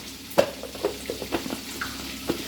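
Egg curry being stirred in a pan, a soft steady sizzle under several light scraping and tapping strokes of a spoon against the pan, close and moderately quiet with no talking.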